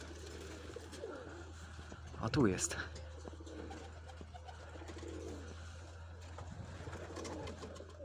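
Homing pigeons at a pigeon loft, one bird giving a short coo among quiet background, with a sharp flutter or clatter near the middle and a voice speaking briefly.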